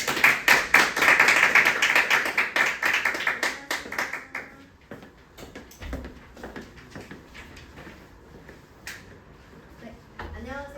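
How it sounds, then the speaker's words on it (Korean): An audience at an evening school admissions briefing claps to welcome a Korean-language teacher, loud and rhythmic for about four seconds before dying away, followed by scattered taps, shuffling and quiet room noise. "박수로 맞이해 주십시오."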